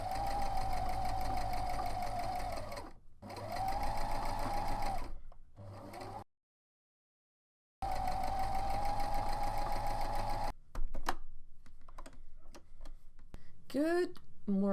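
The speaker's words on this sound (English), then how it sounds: "now we need to head back to the sewing machine and do some sewing" A sewing machine stitches casings into dress bodice pieces, running in steady buzzing bursts with short breaks and a silent gap, followed by quieter handling sounds and a voice near the end.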